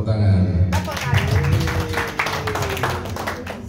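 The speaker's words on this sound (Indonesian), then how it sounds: "Tepuk tangan." A training group claps after a presentation, with quick irregular hand claps rising over a voice and room hum, continuing at moderate loudness.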